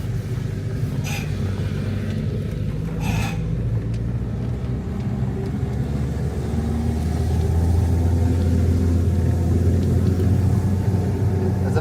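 A Renault camper van labours up a steep hill, a steady low engine drone and road rumble filling the cabin, with a couple of brief rattles early on from loose items inside.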